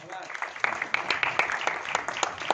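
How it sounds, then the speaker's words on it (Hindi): Audience clapping at a press conference for a singer's debut album launch, a moderate patter of hands with distinct sharp claps standing out, mixed with voices in the room. "क्या बात, तालियां।"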